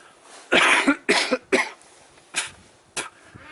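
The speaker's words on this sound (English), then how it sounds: "I've had a bit of a chesty cough and all" Several sharp, wet chesty coughs close by from a man, a burst of three in quick succession followed by two more spaced-out coughs, with quiet breathing between.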